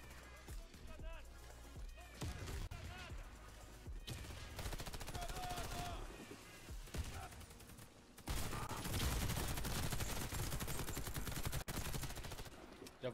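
Rapid gunfire in the Calibre shooter video game, sustained bursts and scattered shots with explosions nearby, loud and dense throughout, with a player talking over the action.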